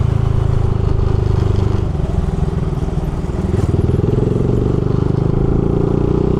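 Honda Grom motorcycle riding along part of a race track, its small engine a loud continuous putter with a rhythmic pulse that dips briefly and returns, heard up close.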